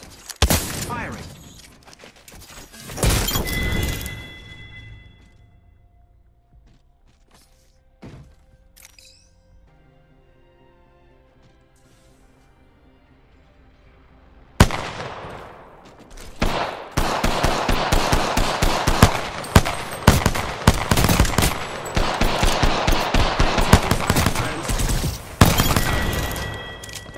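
Weapons fire in a video game battle: loud, dense bursts of rapid shots cluster near the start, then a quieter lull gives way to a long, sustained barrage of heavy gunfire through the second half.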